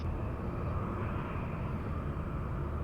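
A jet airliner taxis or starts its takeoff roll at San Diego airport, giving a broad, steady engine roar heard from a distance and holding level for a few seconds with no talk.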